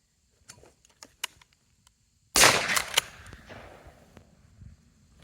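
A single loud gunshot cracks out during a dog training session, sharp and close with a lingering echoing tail, after a few faint scattered clicks.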